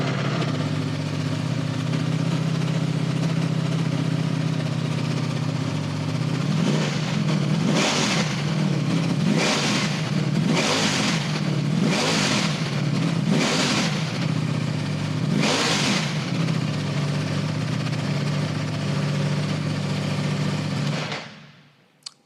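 A Ducati Streetfighter V4S motorcycle engine settles into a deep idle, then takes about six sharp throttle blips in quick succession before easing back to idle and shutting off, loud and close.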